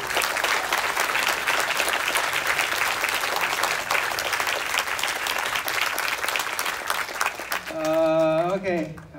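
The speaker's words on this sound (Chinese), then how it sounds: "我们就掌声不断" Steady, dense applause from an audience at a documentary press screening, continuing for several seconds before a voice begins speaking near the end.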